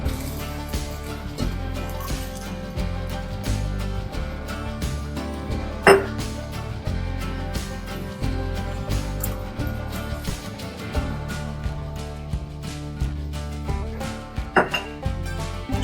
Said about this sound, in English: let's go ahead and start adding in the sauce.